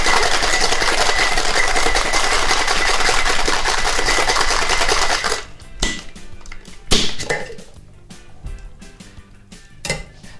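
A cocktail shaker gets a vigorous dry shake with no ice, a dense rapid rattle that runs loud and steady for about five seconds, then gives way to a few scattered clinks and knocks.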